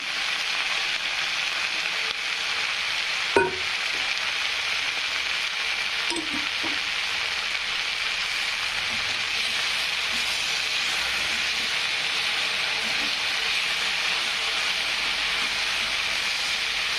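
Okra frying in a pan, a steady loud hiss and sizzle lasting throughout, with a brief clink of a utensil near the start and faint stirring scrapes, no talking.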